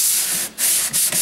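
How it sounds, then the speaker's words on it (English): A drywall corner bead is hand-sanded with close, steady abrasive rubbing in continuous strokes, broken by two brief pauses. "Doesn't take much, just a little bit of sanding"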